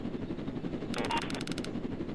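Short burst of rapid machine-gun fire from the cargo ship in the Roblox Jailbreak game, about a dozen quick shots in two clusters, moderately loud over a steady rumbling background.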